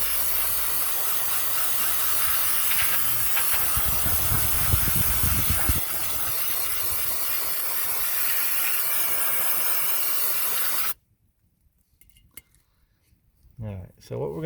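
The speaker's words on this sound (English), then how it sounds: "If you've used brake clean before, then you understand, but if you haven't, if you get it wet a little bit like that" Brake cleaner sprayed onto a CF Moto engine with an oil leak: a loud, steady aerosol hiss runs for about eleven seconds, then cuts off to near silence with a few faint handling sounds.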